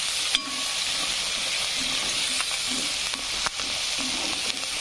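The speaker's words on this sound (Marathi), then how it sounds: "टमाट्याला पण फ्राय होऊ द्यायचं आहे।" Chopped tomatoes frying in a pan for masala pulao, a steady close hiss and sizzle with occasional stirring clicks.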